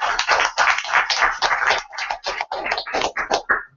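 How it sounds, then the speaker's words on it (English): Audience at a startup leadership talk applauding after a presenter, a dense patter of hand claps that stays steady for several seconds at close range. "A huge round of applause, ladies and gentlemen"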